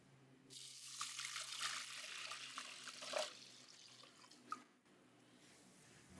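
Water runs steadily into a cooking pot with salt for a stew, a broad splashing rush for a few seconds that fades, followed by a quieter tail with a faint clink.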